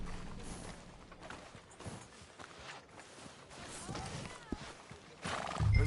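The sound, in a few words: horse neighing and clip-clop in Red Dead video game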